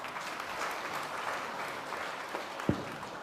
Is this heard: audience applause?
yes